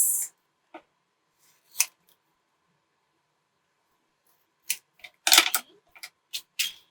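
A brand-new piece of craft vinyl is cut with a few crisp, isolated snips, then a quick cluster of sharper cuts near the end, close and quiet otherwise.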